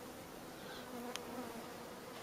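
Honey bees buzz in a steady, faint drone around a hive. There is a brief sharp click partway through.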